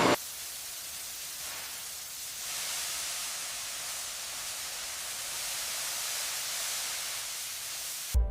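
Foaming citrus degreaser hisses out of a spray can onto the brake-dusted parts of a 1990 Honda NSX under restoration, one long steady close spray lasting several seconds between short clicks at the start and end.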